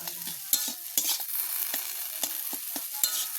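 Ground cumin, coriander and turmeric stir-fried in a pan, a steady close sizzle broken by repeated scraping strokes of a spatula at a quick, uneven rhythm, with no voices.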